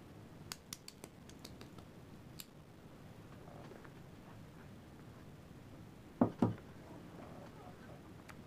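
A cigar cutter snips a 6x60 robusto cigar, giving a couple of sharp close clicks near the end, preceded by small faint ticking handling noises in a quiet room.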